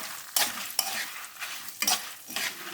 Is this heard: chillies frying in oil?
yes